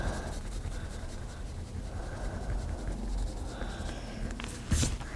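Eraser rubbed back and forth over a princess-castle scratch card, a steady close scratchy friction continuing throughout at an even level, with a brief sharper scrape near the end.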